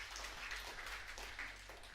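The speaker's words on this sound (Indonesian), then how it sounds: "Oke, boleh beri tepuk tangan." Faint, soft applause from a church audience, a low diffuse patter of clapping under a steady low hum, lasting only a couple of seconds.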